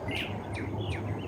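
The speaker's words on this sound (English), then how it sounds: "the singing and chirping of the birds." Several birds chirp and sing in short rising and falling calls over a steady low hum, with no voices, near a creek.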